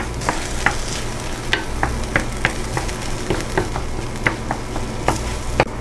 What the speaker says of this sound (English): Next I'll add 2 beaten eggs. Cook that up for about 30 seconds to 1 minute.